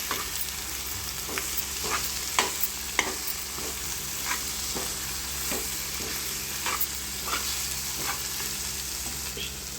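Mashed potato being stirred into sizzling masala in a pan for a potato gravy dish, with a steady fry hiss and repeated scraping strokes of a spoon at an even rhythm.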